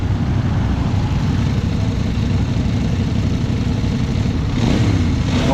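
2025 CFMoto IBEX 800 E motorcycle engine running steadily at standstill in sport mode, a loud continuous drone that swells into a brief rev near the end, close up with no talk.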